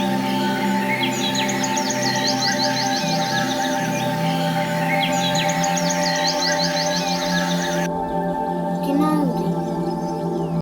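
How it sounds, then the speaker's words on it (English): A canary sings in repeated bursts of bright, rapid trilling warbles, two long phrases in close succession, over a steady background drone before the song stops. "Canary,"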